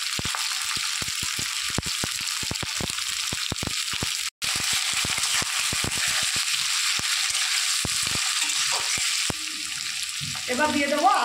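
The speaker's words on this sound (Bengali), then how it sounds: "তেল গরম হয়ে গেছে, আদা পেঁয়াজ রসুনটা আমি একটু ভেজে নেব। প্রথমে দিয়ে দিলাম পেঁয়াজ" Chopped onion dropped into hot oil sizzles loudly and steadily while being fried for a masala chicken, with scattered sharp crackles and spatters, a brief cut partway through and stirring scrapes near the end.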